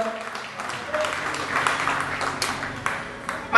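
Audience applause for a Paralympic champion from the Beijing 2008 Games at a Miss Cycling pre-final event, steady clapping across the whole stretch with a voice over it.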